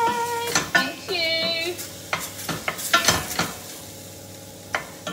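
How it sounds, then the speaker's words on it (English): Lamb sizzles while browning in a pan, stirred with scraping and clinking utensil strikes at irregular intervals over a steady fry. "I'm just browning off lamb"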